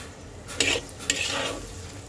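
Two quick scraping stirs pass through a shrimp dish with onion and cumin powder in a pan, each one short and close, with a low, soft sizzle underneath.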